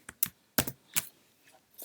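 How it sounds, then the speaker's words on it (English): A Mac keyboard shortcut is pressed: a few quiet, separate key taps spaced a fraction of a second apart, followed by fainter clicks. "Let's use a keyboard shortcut to create a new list. So Shift, Command, and N."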